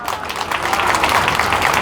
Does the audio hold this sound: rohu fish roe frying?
no